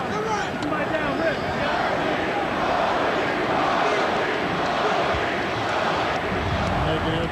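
Loud, dense basketball arena crowd roaring and cheering continuously at an NBA game between the Washington Wizards and Los Angeles Lakers, a steady wash of voices with no pauses, with announcer-like talk mixed in.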